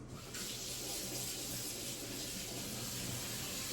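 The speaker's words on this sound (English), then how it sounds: "So let me wash my fingers." A kitchen tap runs steadily while hands are washed, giving a continuous, soft, close hiss of flowing water with no speech.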